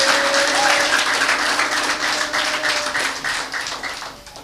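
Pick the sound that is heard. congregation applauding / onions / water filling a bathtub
congregation applauding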